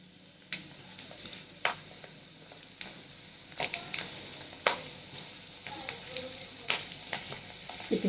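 Fasting-style sandge (puffed sago crisps) frying in hot oil in a kadhai, a steady close sizzle broken by sharp crackles and pops as the pieces puff up, with no talking.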